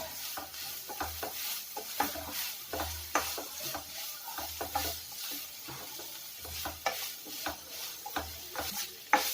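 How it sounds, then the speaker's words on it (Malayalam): Taro stem stir-fry mixed with ground coconut paste in a pan, stirred with steady rhythmic scraping strokes over a soft sizzle, close and fairly quiet, with no voices. "ഇനി നമുക്ക് നന്നായിട്ട് ആ അരപ്പും ചേമ്പിന്റെ തണ്ടും കൂടെ ഒന്ന് മിക്സ് ചെയ്ത് കൊടുക്കാം"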